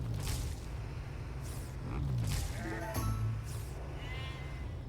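Sheep in the farming game Farm Together 2 bleat several times in quick succession, clear and close against a low steady background hum.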